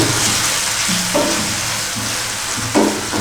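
Ground chili paste mixture sizzles loudly in a pan for Andhra-style methi pappu, a continuous close frying hiss broken by occasional scraping stirs.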